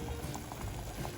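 A pot of water boiling on a stove while making piloncillo barbecue sauce for short ribs, a steady close bubbling and rolling wash with small pops throughout, no talk.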